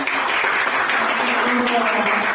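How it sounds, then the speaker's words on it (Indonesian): Students in a classroom clap together for a classmate, a steady, dense round of applause filling the room at close range while voices carry over it. "Bagus sekali, kasih tepuk tangannya"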